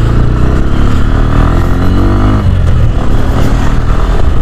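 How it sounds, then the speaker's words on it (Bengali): A Bajaj Pulsar N125 motorcycle with an underbelly exhaust on a city ride, a loud, close, continuous engine drone with bassy exhaust note, rising and shifting as it accelerates. "এক্সস্টের যে সাউন্ডের যে বেসটা আছে খুব সুন্দর লাগে"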